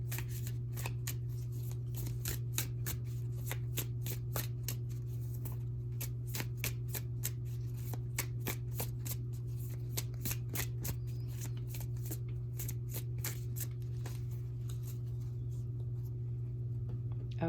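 A deck of tarot cards is shuffled by hand, a steady run of quick crisp riffling snaps that carries on for many seconds over a constant low hum.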